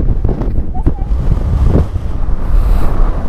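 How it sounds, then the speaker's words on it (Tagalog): Strong gusts of wind batter the microphone on a motorcycle ride in San Nicolas, Pangasinan, a loud continuous low rumble and buffeting throughout, with brief voices mixed in. "Lakas ang hangin, no?"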